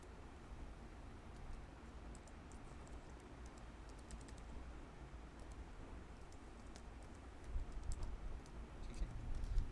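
Soft, steady typing on a computer keyboard while entering web front-end code, fast irregular key clicks running throughout, quiet and close, growing a little louder near the end.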